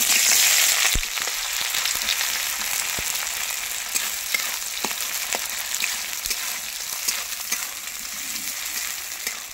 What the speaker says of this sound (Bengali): তেল গরম হয়ে গেছে, এবার কেটে রাখা পেঁয়াজগুলো দিয়ে দেব।